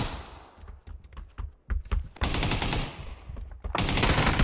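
Gunfire in a battle royale video game, a mix of automatic bursts and single rifle shots, loud and close with heavy overlapping fire in the second half and no talking.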